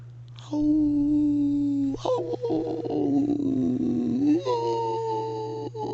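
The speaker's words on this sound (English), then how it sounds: "Wolves like howling back and forth to each other." Wolves howl back and forth in long, drawn-out, wavering calls that overlap and shift in pitch. A steady low hum sits beneath the howls.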